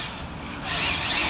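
Arrma Infraction V2 RC car sliding as its handbrake is tapped, a steady hissing tire scrub and motor whine that swells louder over about a second, with no talking.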